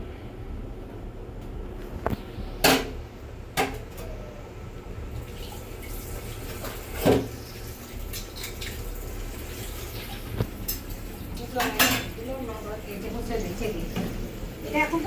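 Utensils are rinsed under a running kitchen tap, a soft steady water hiss broken by occasional clinks and knocks, with someone talking over it.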